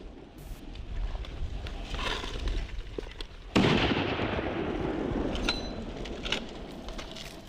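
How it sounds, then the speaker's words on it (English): Rifle shots ring out during a buffalo hunt in the Australian outback, with a sharp loud report partway through followed by a rolling echo, amid steady outdoor noise and scattered faint pops. "he's even capable of putting 2 more perfectly placed bullets in the buffalo"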